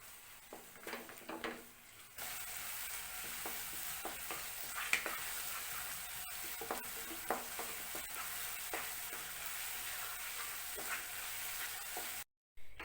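Kashmiri chili powder fries in hot oil for an egg masala, a faint, steady sizzle broken by light stirring scrapes and clinks, cutting out briefly near the end.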